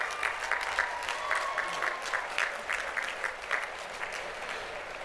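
An audience at a high school graduation ceremony applauds steadily for several seconds, a dense patter of clapping heard from within the crowd.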